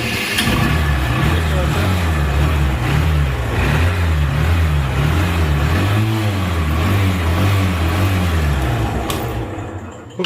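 A used Bajaj Discover 100cc motorcycle at a bike sale in Rajshahi, Bangladesh, runs with a loud, steady, low engine drone and a wavering rhythmic throb, with voices heard over it throughout.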